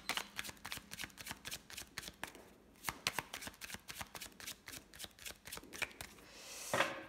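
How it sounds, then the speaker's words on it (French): Tarot cards are shuffled and flipped, giving a fast run of crisp riffling snaps and flicks close to the mic for about seven seconds, ending in a brief louder swish, with no talking. "c'est les cartes qui se retournent"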